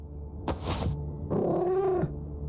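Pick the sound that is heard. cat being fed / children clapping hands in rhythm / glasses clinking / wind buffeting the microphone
cat being fed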